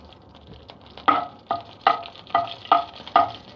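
Mustard seeds and curry leaves frying in hot oil in a pan: a low sizzle broken by six evenly spaced, crisp scraping bursts as the mixture is stirred.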